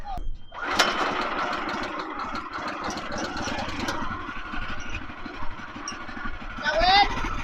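A Woodland Mills sawmill engine sputters into life and runs at a rough, uneven putter, fairly close and moderately loud, while voices talk over it.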